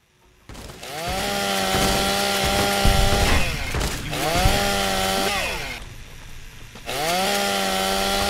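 Ripper chainsaw weapon in Fallout: New Vegas revving loudly in long sustained bursts, its motor pitch rising and falling as it cuts, with two short drops between runs.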